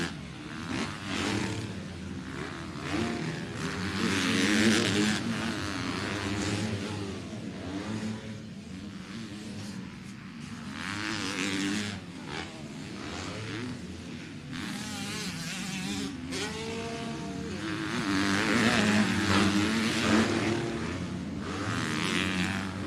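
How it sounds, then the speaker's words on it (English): A lone Yamaha YZ125 two-stroke motocross bike races in a Schoolboy 2 moto for riders aged 12 to 17, making a high, nasal, wasp-like buzz. The revs rise and fall repeatedly as it accelerates and backs off, heard from a moderate distance. "Looks like we got a lone two-stroke out there."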